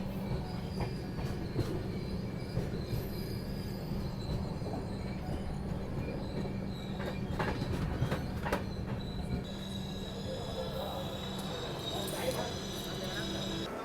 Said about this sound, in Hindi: फाइनली अपनी ट्रेन पहुंच रही है रायचूर जंक्शन रेलवे स्टेशन